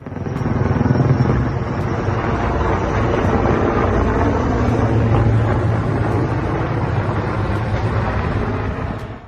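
A firefighting helicopter flying over a wildfire near Athens, Greece: a loud, steady rotor roar with rhythmic thumping and heavy wind buffeting on the microphone, continuing throughout.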